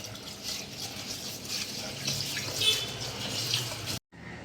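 Rice is rinsed in water, giving a soft continuous watery swish and trickle, fairly faint and close, steady for a few seconds before a brief cut.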